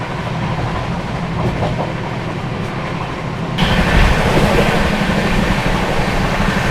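The 12303 Poorva Express running flat out at about 130, a steady roar of wheels and rushing air from on board, loud and continuous, growing brighter partway through.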